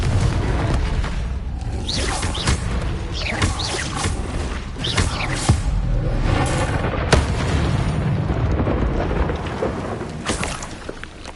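A Confringo blasting spell erupts again and again in the Hogwarts Legacy video game, loud rumbling explosions with whooshing bursts that pile up over a continuous heavy roar.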